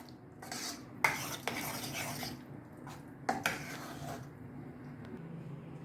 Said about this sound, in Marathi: आता मी तुपाचीच फोडणी देणार